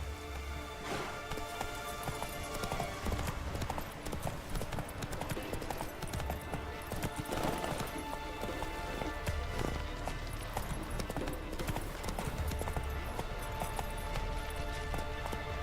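A horse gallops in The Witcher 3 video game with steady, driving hoofbeats throughout, layered over dense ambient game sound that resembles rain. Nobody speaks.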